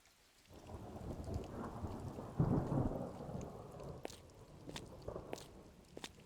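Rain falls steadily while thunder rumbles low and long in the rainy setting of the video game Harmful The Second Tape, with a few sharper drops and cracks near the end.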